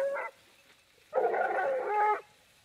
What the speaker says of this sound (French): C'est un chien courant. Donc quand elle pousse ce genre de cri